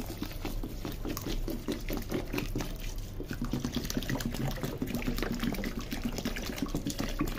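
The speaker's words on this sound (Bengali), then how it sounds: "ওকে, এখন ধুই চালটাকে।" Polao rice is washed in water in a pot, with repeated sloshing, swishing and trickling splashes from hands stirring the grains, close and continuous with no talk.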